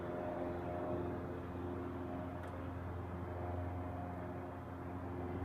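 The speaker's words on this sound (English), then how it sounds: "That's one of the variations of the C-130." A Lockheed C-130 propeller aircraft flies past at a distance with a steady, droning propeller hum over broadband rumble, fairly quiet and even throughout.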